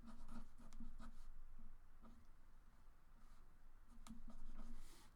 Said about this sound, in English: I'll sketch them down here